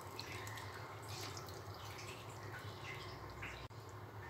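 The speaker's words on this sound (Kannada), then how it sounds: "ಇವಾಗ ನಾನಿಲ್ಲಿ ಒಂದು ಗ್ಲಾಸ್ ಆಗುವಷ್ಟು ನೀರು ಹಾಕ್ತಾಯಿದ್ದೀನಿ" Water poured steadily from a glass into a cooking pot for a Malabar spinach sambar, a continuous close splashing and trickling that runs unbroken for several seconds before cutting off abruptly near the end.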